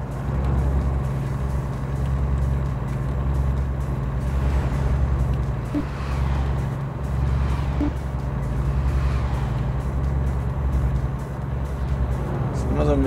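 Heavy truck in American Truck Simulator driving at night under a heavy load, its engine droning low and steady at cruising speed as it pulls on, with someone talking over it throughout.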